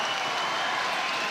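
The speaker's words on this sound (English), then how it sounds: "The crowd tries to rally." A basketball crowd in an arena cheers and applauds at a New Zealand NBL game, a steady wash of clapping and crowd noise filling the whole moment without a break.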